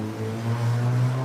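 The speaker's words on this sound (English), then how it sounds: "Did you hear that engine sound?" Engine droning with a steady low hum and strong tonal harmonics, slightly rising in pitch, close and alone without talk over it.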